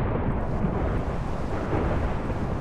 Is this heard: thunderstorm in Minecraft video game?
yes